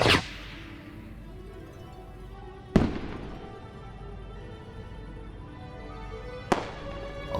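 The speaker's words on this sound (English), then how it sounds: "I took a match out of the matchbook, dragged it against the striker, and lit the firework" Three sharp firework bangs in the video game Foolish Mortals, spaced a few seconds apart, each followed by a crackling, hissing tail that fades, with no one talking.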